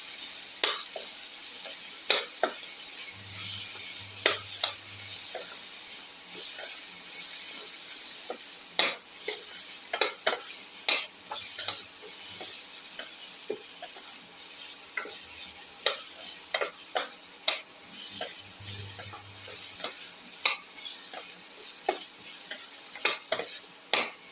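Tomato pieces sautéing in a pan, with a constant bright sizzle and a steady run of quick spatula taps and scrapes as they are stirred, close and continuous with no voices.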